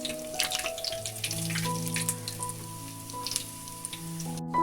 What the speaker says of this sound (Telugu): నిదానంగా వీటిని కదుపుకుంటూ వేయించుకోవాలి.